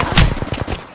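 Rapid gunfire in the battle royale game Apex Legends, a loud close burst of several quick shots in one second.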